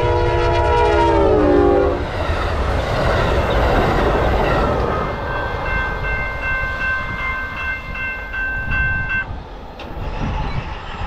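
Amtrak Texas Eagle passenger train number 22 out of San Antonio sounds a loud horn blast, then rumbles past close by with a continuous roar and clattering wheels, with a few short whistle-like tones.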